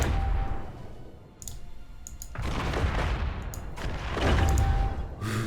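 Rapid bursts of small-gun fire in the space strategy game Worbital, with clustered crackling volleys and heavier booming stretches. The firing is loud and continuous, with no voices over it.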